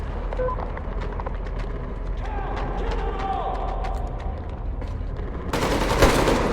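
Covering gunfire in the post-apocalyptic shooter Metro Exodus: scattered, fairly distant shots under voices, swelling into a louder, denser volley near the end.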